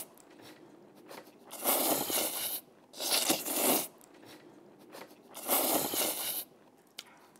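Mazesoba noodles being mixed with a raw egg yolk at a restaurant in Jeju's old downtown, heard as three close, wet, sticky squelching bursts of about a second each with quiet pauses between and no talk.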